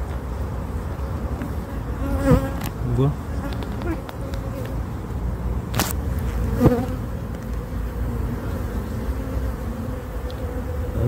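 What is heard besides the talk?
honeybees on brood frame in hive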